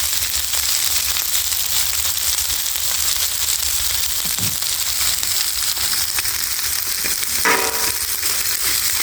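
Cabbage and noodles fry in butter on a flat-top griddle, giving a steady, loud, close sizzle throughout with a couple of brief scraping clatters from a spatula.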